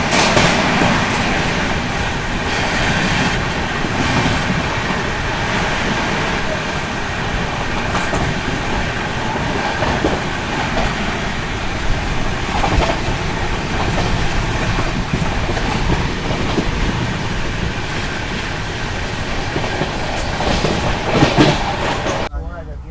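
Rajdhani Express running through Hindaun City station without stopping: steady loud rumble and clickety-clack of wheels and carriages, with scattered clanks, continuous throughout, with a voice talking faintly over it.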